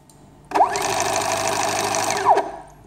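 A homemade stepper motor peristaltic pump runs at maximum speed, ramping up with a rising whine into a steady, buzzing mechanical hum, then winding down with a falling pitch; close and clear with no talking.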